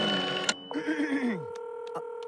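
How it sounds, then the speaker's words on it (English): An old-timey telephone in a cartoon is dialed, with a rotary-style whirring and ratcheting, then ringing and electronic tones, close and clear over a brief voice at the start. "This is an old-timey phone."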